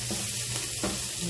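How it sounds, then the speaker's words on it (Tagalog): Onions and garlic frying in hot oil in a wok: a loud, continuous sizzle with scraping stirs at a few moments, close up, with no talking. "Nilagyan ko na ng mantika yung kawali. So, nilagay ko na yung onions. Nilagay ko ng garlic."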